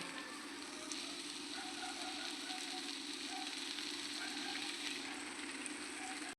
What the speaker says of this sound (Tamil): உப்பு போட்டாச்சா நல்லா வதங்கட்டும்